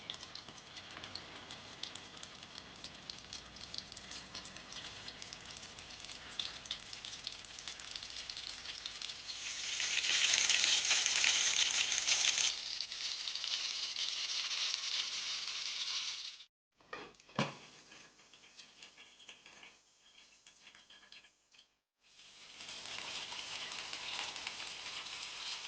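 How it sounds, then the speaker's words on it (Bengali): Sabur pakora frying in hot oil, a long steady crackling sizzle that swells louder and brighter midway, drops out briefly twice, then resumes at an even, moderate level. "গরম তেলে একে একে সব ভেজে নিলাম।"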